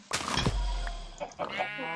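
Sheep in Minecraft bleat in a short burst, followed by another quieter bleat near the end, close and clear over light background game sounds.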